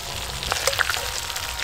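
Local river prawns fry in oil with a soft, crackling sizzle and a few brief pops and clinks over a short stretch.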